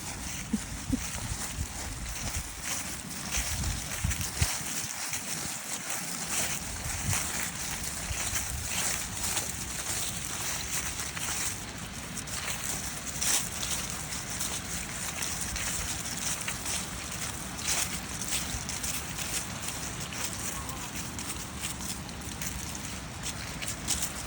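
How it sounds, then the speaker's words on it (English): A steady rushing of water from a waterfall near a creek fills the scene, a continuous broadband roar heard from some distance. "I think that might be a waterfall."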